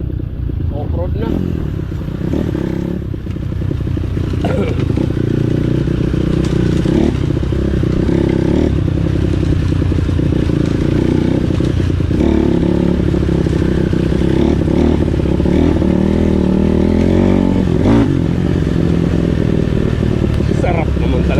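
Kawasaki KLX dirt bike ridden off-road on a trail, its engine droning and revving continuously with rattling clatter and scraping, loud and close, with voices talking over it.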